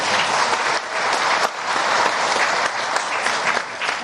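Loud, dense applause from a large audience at a West Java election commission ceremony, sustained without a break across the whole stretch.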